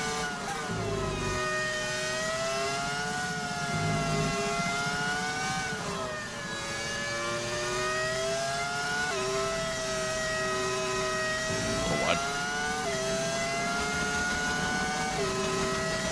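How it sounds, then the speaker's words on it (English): A modded V10 Formula 1 engine in the racing game F1 25, a high-pitched wailing tone that rises and falls with gear changes and throttle lifts, sustained and prominent throughout, with no talking. "I did use a mod to put the V10 engine sound in."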